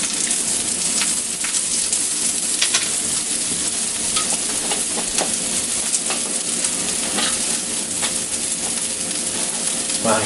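Scallions sizzle loudly in a hot pan and are stirred, giving a dense, continuous frying crackle with scattered scraping taps close by.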